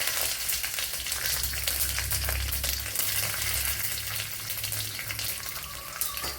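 Five garlic cloves fry in a pan of already popped mustard seeds for a Kerala-style bitter gourd stir-fry, giving a continuous close, crackling sizzle with faint stirring and no talk.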